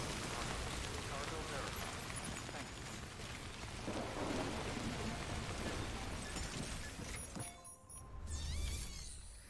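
Steady rain falls in the video game Death Stranding, a dense continuous hiss filling the scene throughout, with a low rumble swelling near the end.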